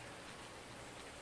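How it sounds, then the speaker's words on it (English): Steady rain falling in the farming video game Farming Simulator 19, a constant even hiss with no voices over it. "And it is still raining."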